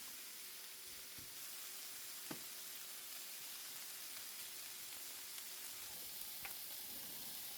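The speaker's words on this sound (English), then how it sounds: "I'm going to give everything a good stir." Ginger pork stir-fry with peas sizzles softly in a pan, a quiet, steady frying hiss broken by a few sharp clicks of a utensil as the food is stirred.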